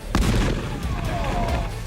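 A water heater rigged as a rocket explodes with a sharp, loud boom, followed by a rumbling, fading tail of debris and echo.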